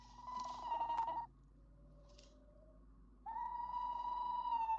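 Two sustained hooting tones from an owl calling at night, fairly faint and distant, separated by a short quiet gap with a softer call in between.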